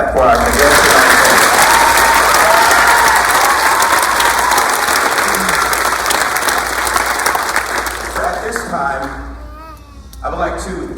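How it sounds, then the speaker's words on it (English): A graduation crowd at the Arkansas Youth Challenge Program Class 60 ceremony gives graduating cadets a loud, sustained round of applause that fills the hall, then fades as a voice begins speaking near the end. "One more hand clap for our cadets"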